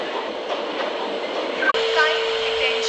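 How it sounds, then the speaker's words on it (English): An Indian Railways passenger express train pulls into a station platform, making a steady, loud rolling rumble. A sharp click breaks the sound partway through, then the rumble continues. "12655 Passenger Express is arriving at platform"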